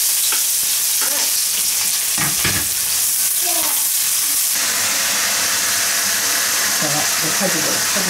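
River fish frying in hot oil in a wok, a loud continuous sizzle with scraping and clattering from stirring throughout.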